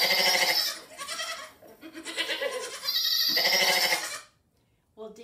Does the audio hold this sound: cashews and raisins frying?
no